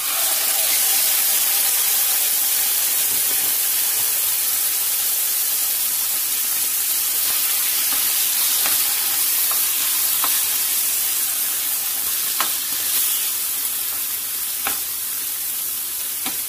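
Small chicken pieces fry loudly in a little oil in a pan, giving a constant bright sizzle and hiss. A few light scrapes and taps from stirring break through, and no one talks.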